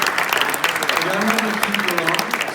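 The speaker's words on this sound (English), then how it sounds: "So please give Veli a round of applause." A conference audience applauds a speaker at an esports research event, with moderately loud clapping running under a voice talking over it.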